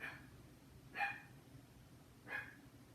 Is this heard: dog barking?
yes